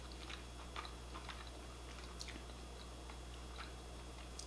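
Someone chews a mouthful of Polish cabbage rolls (galumpki) during a taste test, with soft, close, repeated wet chewing and small bites over a steady low hum, no talking.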